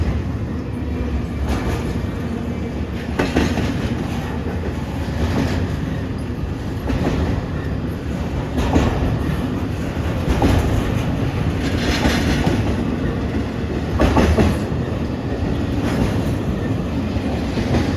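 Freight train led by two ES44DC locomotives rolls past near and loud, a steady rumble of cars with rhythmic clickety-clack of wheels over rail joints repeating throughout.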